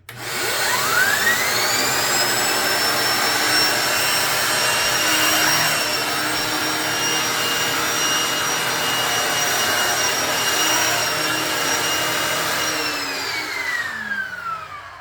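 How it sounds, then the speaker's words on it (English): A Shark Navigator Lift-Away Pro upright vacuum cleaner spins up to a loud, steady high-pitched motor whine, holds it for about twelve seconds with no talking, then winds down at the end. "when the vacuum is working, I guess it has strong power engine or something motor."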